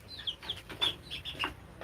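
Young broiler chickens under six weeks old in a small backyard poultry farm give soft, high peeping chirps in scattered short bursts, faint and close, with no talking.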